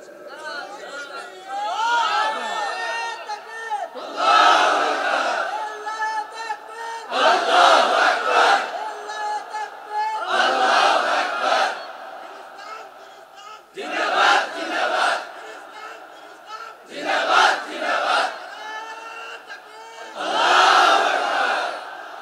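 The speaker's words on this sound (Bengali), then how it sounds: "দেন, স্লোগান দেন।" A crowd at an Islamic waz gathering shouting slogans in unison, with loud, repeated chanted bursts separated by short pauses and a leader's voice between them.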